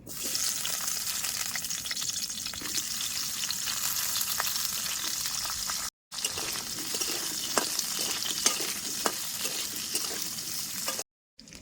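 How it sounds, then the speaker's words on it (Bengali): Potato and taro pieces fry in oil left over from frying fish, a loud continuous bubbling sizzle with occasional stirring clatter, briefly cutting out twice. "মাছ ভাজার তেলের মধ্যেই আলু আর কচু সুন্দর করে লাল লাল করে ভাইজে উঠাই নেবো"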